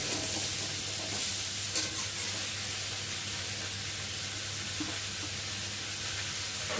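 Vegetables fry in a pan for a Bhola fish curry, a constant close sizzle broken by a few stirring scrapes, with no speech.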